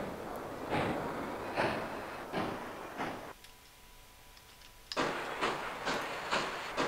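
A steam train in the Bridge Construction Set game chuffs in an even, repeating rhythm of hissing puffs, falls quiet for about a second and a half, then resumes its steady chugging.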